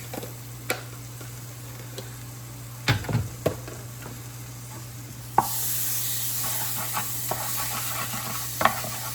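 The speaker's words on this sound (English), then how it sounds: "Add a little bit more butter in there." Butter sizzles in a frying pan during sauce making, a soft hiss under a steady hum, broken by sharp taps and stirring scrapes, with the sizzle swelling louder partway through.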